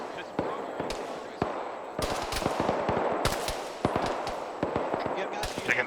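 Battlefield gunfire in the military game ArmA 3, with sharp, loud single shots and quick bursts cracking at irregular intervals over sustained rumbling, while voices talk over the radio.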